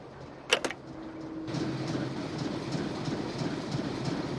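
A train rolls along its rails in Nancy Drew: Last Train to Blue Moon Canyon, a steady rumbling, clattering drone that starts abruptly after a short sharp knock and continues evenly to the end.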